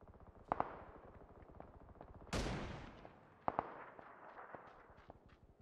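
Gunfire in PUBG on the Karakin map: a rapid rattle of distant shots with a few sharper cracks and one heavy, booming blast partway through, all fairly faint.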